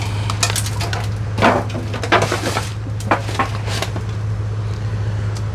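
Grilled beer-can chickens being pulled off their cans into a foil pan make crinkling, scraping and clattering noises in irregular bursts over a steady low hum.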